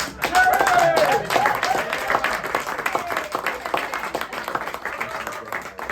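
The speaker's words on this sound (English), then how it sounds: "Give her a big round of applause." Audience applause fills a magic show at the Magic Castle, dense sustained clapping from a close crowd, loud at first then easing slightly while staying steady throughout.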